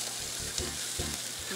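Mushrooms frying in a little olive oil in a pan, a loud, steady sizzle with soft stirring knocks roughly every half second, close up, with no talk.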